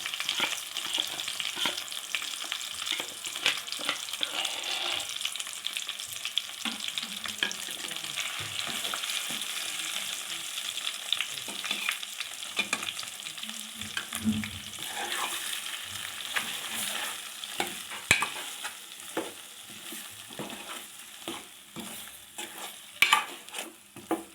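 Masala paste for stuffed brinjal (gutti vankaya) cooks in a pan on a low flame, with a soft continuous sizzle and frequent scraping, clinking stirs close by and no speech.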